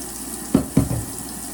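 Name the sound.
washing hands under running tap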